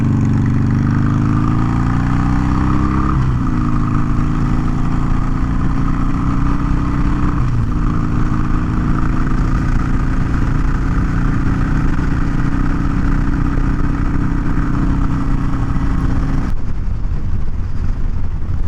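A 2020 Harley-Davidson Sportster Iron 883 fitted with a 1250 Hammer Performance big-bore kit, recorded while riding. Its V-twin engine holds a loud, steady rumble with wind roar for about eighteen seconds, and the note shifts slightly a few times.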